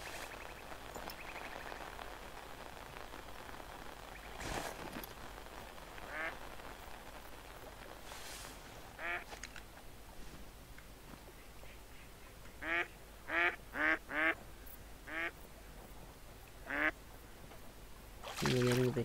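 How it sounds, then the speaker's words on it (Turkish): Ducks in The Hunter: Call of the Wild give clustered quacks, several in quick succession, moderately near over faint ambient game noise, with a few softer calls earlier. "Evet, 3 tane daha ördek geliyor."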